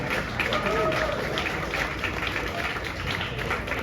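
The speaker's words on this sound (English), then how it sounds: "Let's give a round of applause for the 500 Club." Audience at a coaster enthusiast event at Six Flags Over Texas applauding the 500 Club, a fairly quiet, diffuse clapping from a small crowd with a voice audible over it.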